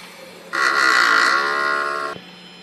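An inkjet printer running a head clean cycle, with its heads last serviced in October 2023, gives a loud, steady mechanical drone with a tonal whine that lasts about a second and a half and then cuts off abruptly.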